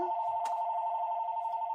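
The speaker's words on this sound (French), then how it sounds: "Le téléphone sonne, mais je vais le laisser sonner." A telephone rings in a quiet room with a steady, sustained electronic tone that continues unbroken, interrupted only by a faint brief click.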